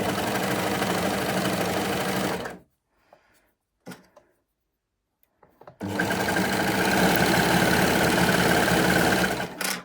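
An overlocker sews a rolled hem in two loud, steady runs, a rapid mechanical whir broken by a quiet pause with a few handling clicks.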